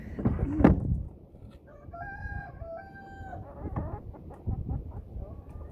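Chickens in an old farm coop: a rooster crows while hens cluck intermittently, fairly faint with some nearby shuffling.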